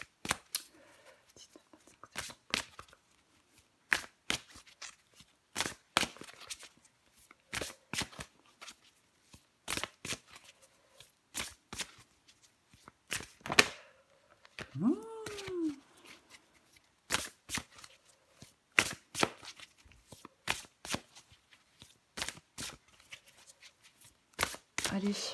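Tarot cards being shuffled by hand, a long run of crisp riffling snaps and flicks in irregular bursts, close and clear, with a brief voice partway through.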